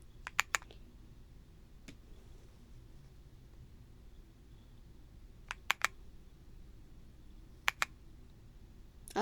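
Sparse keystrokes on an Aula F75 75% keyboard with Strawberry Mint switches, a few quick clustered clicks near the start and again later, over a quiet room hiss with no talking.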